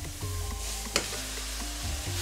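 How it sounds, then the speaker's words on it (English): Beef with its fat cap down sears in a Ninja pressure cooker for birria, giving a steady, close, bright sizzle and crackle that runs the whole time with a low hum beneath and no voices. "We're gonna let this sear for about 3 to 5 minutes per side."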